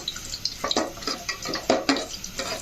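Cloves, cardamom and bay leaves frying in oil for a beef rezala are stirred in a pan, giving a soft, steady sizzle broken by rhythmic scraping strokes of the spoon, close and fairly quiet, with no voices.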